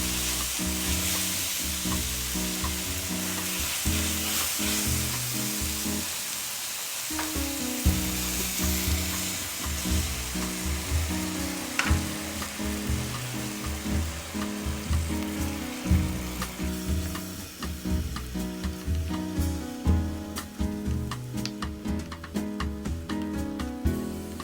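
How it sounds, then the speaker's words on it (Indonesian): Korean kimchi hot pot sizzles steadily in a pan while being stirred, with continuous frying hiss and scraping stir strokes throughout, close and fairly loud with no talking. "Kemudian kita tambahkan sedikit air, lalu kita aduk."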